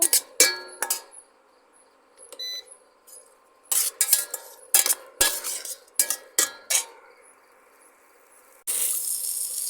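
Koi fish curry masala is stirred and fried in a pan, with irregular clattering scrapes and knocks of a spoon against metal, close and uneven, ending in a steady loud sizzle over the last second.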